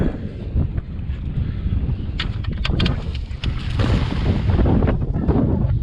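Steady side wind buffets the microphone outdoors by the water during cast net throwing, a loud low rumbling gust noise throughout with a few brief splashy rustles, no speech.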